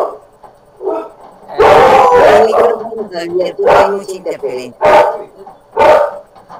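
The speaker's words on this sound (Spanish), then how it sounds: "El perro no deja escuchar, el perro." A dog barks in short bursts at a Spanish-language community meeting, the loud barks cutting across and between people talking nearby.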